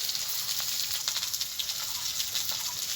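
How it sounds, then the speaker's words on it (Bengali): Okra with a little salt and turmeric fries in a pan, giving a soft, continuous sizzle with faint crackles, close and even, with no talking. "ভেন্ডিটা ভাজা হচ্ছে"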